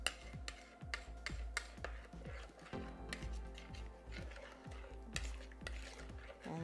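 A spoon stirs sugar and yeast in a bowl, giving quick rhythmic scrapes and soft clinks against the side, faint and close, several strokes in a row.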